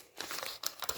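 A paper envelope of mail being torn open by hand, a short burst of close crinkling and ripping in two or three quick pulls, fairly quiet.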